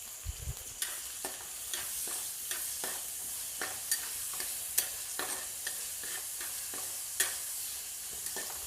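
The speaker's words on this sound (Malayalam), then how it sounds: "ഇത് നന്നായിട്ടൊന്ന് ഇളക്കി ഒന്ന് മൂപ്പിച്ചെടുക്കാം." Tomatoes and green chillies sauté in a hot pan for a coconut-milk fish curry, giving a steady close sizzle broken by regular scraping strokes of a stirring spoon.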